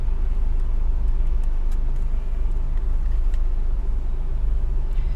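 Car in motion heard from inside the cabin, a steady low engine and road rumble filling the space continuously and fairly loud, with no talk.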